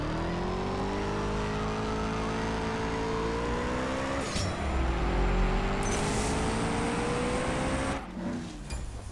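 A Koenigsegg supercar races in the CSR Racing 2 video game, its engine climbing in pitch through successive gear shifts with loud revving and a brief tire squeal, continuous throughout.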